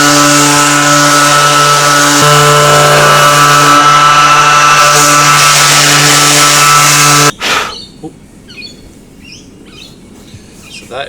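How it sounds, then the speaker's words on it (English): A power sander drones loudly and steadily while smoothing a Nissan S13 front bumper during prep work before a wrap, then cuts off abruptly, leaving faint background sounds. "You wanna sand it for me?"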